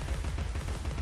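Rapid, rumbling gunfire in the video game Alice Madness Returns, a dense stream of low shots packed tightly together across a brief burst.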